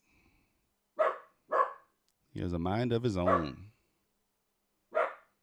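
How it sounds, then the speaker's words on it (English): A dog barks three times in sharp, separate bursts against a quiet background while someone speaks in the middle. "Who knows what he's barking at?"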